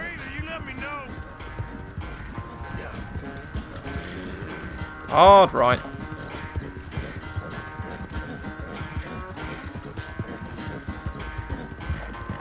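A horse gallops in the video game Red Dead Redemption 2, rhythmic hoofbeats running steadily under a voice talking, with a short loud burst in the middle.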